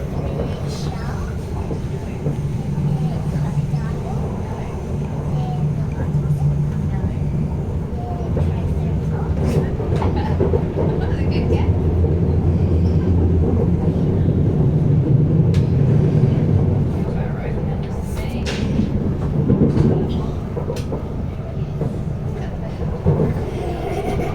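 An Elizabeth line train runs from Shenfield toward Heathrow as it leaves the Great Western Main Line. A loud, continuous rumble of wheels and motors swells and eases with faint rattles, heard from inside the carriage.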